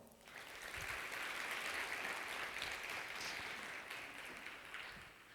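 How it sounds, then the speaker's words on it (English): Audience applause at the Doha Women Forum 2018, a steady wash of clapping from a hall crowd that holds throughout, fairly quiet and distant, with no talk over it. "let's have a round of applause for Doha Women Forum"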